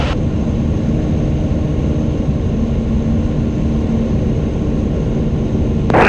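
A Cessna 3056 X-ray light propeller plane's engine drones steadily and loudly from inside the cabin during stall practice, holding an even, continuous hum throughout.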